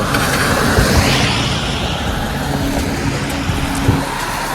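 A Winnipeg city bus pulls up to a stop with a steady, close engine rumble over continuous road and traffic noise. No one speaks.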